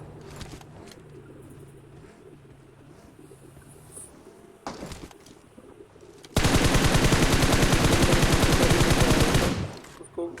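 Automatic gunfire in the video game BGMI, a loud rapid sustained burst lasting about three seconds after quieter game ambience and a single sharp shot.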